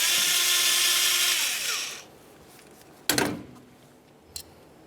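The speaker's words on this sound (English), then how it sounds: "Remove that bolt." A power tool whirs steadily for about two seconds while backing out the 10mm mounting bolt of an ignition coil on a 2009-2010 Pontiac Vibe, followed by sharp metallic clicks and a clink.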